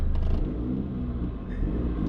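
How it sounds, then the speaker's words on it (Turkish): A big-turbo diesel VW Polo accelerates with a deep, steady engine rumble and a rising roar, heard loud from close by, without talking over it. "Gaza basınca gidiyor."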